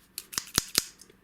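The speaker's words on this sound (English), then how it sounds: "We'll start with a bit of thin cardboard. Yep, they'll cut right down to the tips, which is useful." Draper electrician's scissors, model 54957, snipping thin cardboard: four crisp, quick cuts in a row, close and clear against a quiet background.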